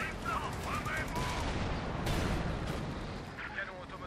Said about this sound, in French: Canon automoteur 75 mm paré.